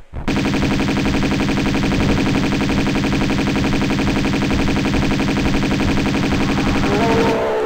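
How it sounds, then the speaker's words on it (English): Sustained rapid Uzi fire from Tomb Raider II Remastered in an icy palace level, a dense unbroken automatic rattle lasting about seven seconds, loud and close with no talk over it. "So we're going to get the Uzis out"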